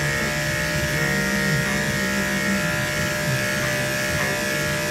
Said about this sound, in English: I'm gonna shave the bum out here